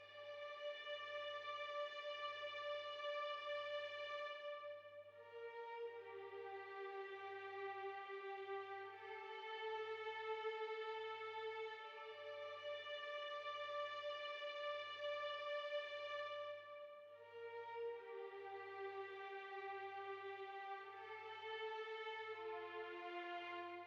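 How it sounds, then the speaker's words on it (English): Sampled string section in a trapsoul-style FL Studio beat, sustained layered chords shifting every few seconds over a soft, steady pulsing low tone. "Next I use these strings that I've been using a lot"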